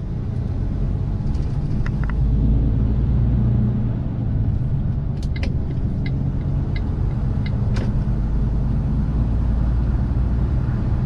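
An Iveco 480 hp truck drives along the road, its deep engine rumble and tyre roar loud and constant, with a few faint clicks and rattles from the cab.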